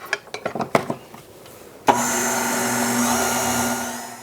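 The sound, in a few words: electric mixer mixing sugar, baking soda and salt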